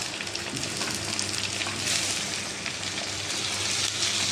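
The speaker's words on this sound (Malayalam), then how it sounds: "തക്കാളി, 2 തക്കാളിയാണ്, കരിവേപ്പില, ഒരു 5 പച്ചമുളക്, ഇതും കൂടെ നമുക്ക് വഴറ്റിയെടുക്കാം." Two tomatoes, curry leaves and five green chilies sauté in a pan for a mackerel curry, giving a steady, dense sizzle that hisses continuously and close up throughout.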